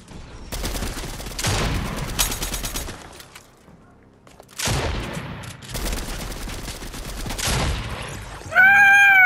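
Loud bursts of gunfire in the Fortnite video game, with rapid shotgun-style blasts in several dense volleys separated by short gaps, ending with a higher ringing tone.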